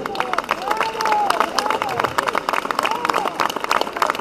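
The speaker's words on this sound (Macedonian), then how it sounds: "Ве молам еден голем аплауз за сите нив." Audience applause with cheering and crowd noise at a Skopje gathering, dense clapping bursts over a murmuring crowd with some voices rising and falling throughout.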